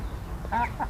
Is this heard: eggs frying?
no